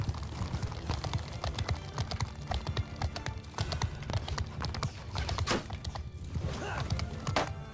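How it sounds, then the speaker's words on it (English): Heavy cavalry horses gallop in the medieval battle game Bannerlord, a dense, continuous clatter of hooves pounding close by at a rapid, irregular rhythm. "I might send my heavy cavalry to engage theirs"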